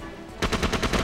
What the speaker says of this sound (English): Man, this large machine gun's cool.